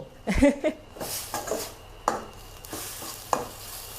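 Minced fatty pork stir-fried in a pan for a spicy banana blossom salad, with scraping and stirring strokes at an irregular rhythm over a soft sizzle, close and moderately loud.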